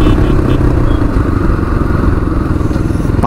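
Two motorcycles riding on a highway near Pavagadh, their engines a loud, steady, close drone with rough clatter and wind buffeting, and no speech.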